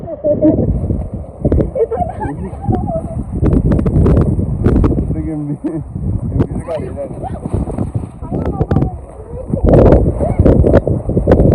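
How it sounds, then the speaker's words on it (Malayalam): Strong gusty wind buffets the microphone in a steady roar, heard over nearby people talking and splashing about in water during a family trip near the Mookambika temple. "സൂപ്പർ കാറ്റ്"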